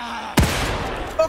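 A single sharp gunshot blast from the survival horror video game The Evil Within 2, loud and abrupt with a short decaying tail, followed by game ambience.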